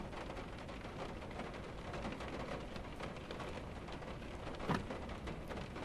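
Steady rain pours outside a building during a rainstorm in the horror game Witch's Doll, with a low rumble of thunder swelling briefly near the end, no talking.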